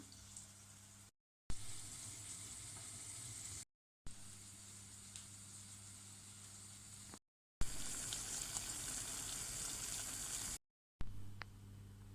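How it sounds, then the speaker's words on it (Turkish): Steady hissing sizzle of spinach fritters frying in olive oil, close by, broken into several stretches by brief silent cuts. "Orta ısıya gelince köfte şekli verilmiş olan mücverleri arkalı önlü kızartalım."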